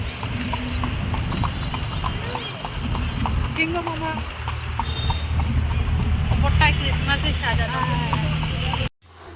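A decorated horse-drawn carriage rolls along with steady, rhythmic hoof clip-clops on the road, accompanied by wheel rumble and people talking nearby, ending abruptly.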